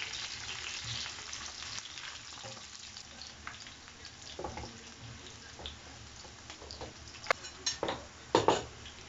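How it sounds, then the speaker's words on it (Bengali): Green chilies fry in a hot pan with a continuous soft sizzle, with a few sharp clinks and scrapes toward the end. "গ্রিন চিলি দিয়ে একটু ফ্রাই করতে হবে"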